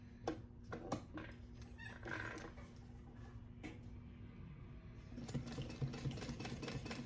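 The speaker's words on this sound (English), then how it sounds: "Making sure I backstitch. I'm guiding myself with the fold line that I did." A sewing machine stitches a crossbody bag along a fold line, running in short bursts with brief stops and reversals for backstitching, close and fairly steady.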